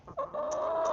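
A chicken in a coop gives a single short cluck, close and moderately loud, alone, lasting under a second.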